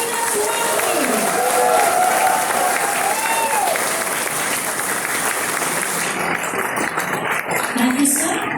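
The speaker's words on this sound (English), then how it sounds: "Let's shout and clap for Refinus Marjorie." A crowd at a sports association ceremony claps loudly and cheers without a break. Shouts and voices rise above the dense applause throughout.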